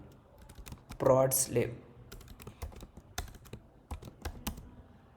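Keys clatter on a computer keyboard in irregular bursts of close, crisp taps while a voice speaks briefly near the start, the typing continuing alone afterward.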